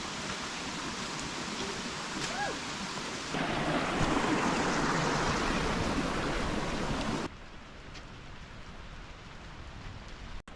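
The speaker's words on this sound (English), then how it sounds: "as the rain starts to fall heavier" Heavy rain pouring down in the mountains, a dense, steady hiss of falling water that swells louder midway and then drops to a softer wash, with no voices.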